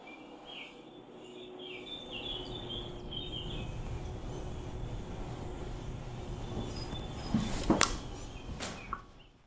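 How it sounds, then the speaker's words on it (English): Small birds chirp faintly in the distance over a steady low rumble, with a couple of sharper clanks near the end. "with all the noise of the little birds in the background"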